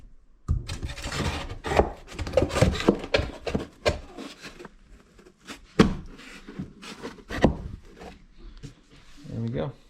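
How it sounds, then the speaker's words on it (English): A shower curb being trimmed down on a job site gives repeated rough cutting and scraping bursts with rasping texture, fairly close, interrupted by brief pauses. "Trimming the curb down because nobody likes a huge curb on these showers."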